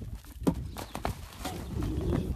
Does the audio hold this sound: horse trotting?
yes